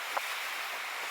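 Waves wash in at a rocky Scottish cove in winter wind, a broad steady roar of surf and spray with a brief knock near the start, no voices.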